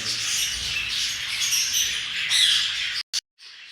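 Young caged chicks squawk in harsh, scratchy, continuous calls at close range, with a few sharper squeaks and brief cut-outs near the end.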